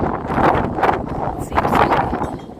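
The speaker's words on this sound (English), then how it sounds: "the wind seems to be getting up as they're just walking around" Strong wind gusts buffet the microphone in a cemetery, loud and continuous, with surging rumbles rising and falling over a few seconds.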